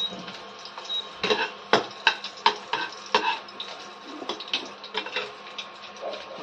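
Green chillies sautéing in a pan while being stirred, giving a series of close scraping and clinking spoon strikes over a faint, steady sizzle with no talking.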